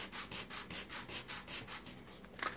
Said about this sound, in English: you want to take your sandpaper and sand it, because you don't want any rough edges